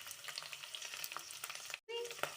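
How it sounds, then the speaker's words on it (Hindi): Cubed onions sauté in a pan for a Soya Manchurian, producing a soft, continuous sizzle with faint stirring scrapes, briefly cut by a short dropout before the frying sound resumes. "प्याज को भी हम अच्छे से सॉटे कर लेंगे"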